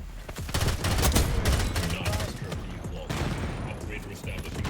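Rapid full-auto fire from a Stryder .22 rifle in Black Ops 6, a dense, loud rattle of shots running the whole few seconds with scattered mechanical clicks and impacts, a voice talking over it.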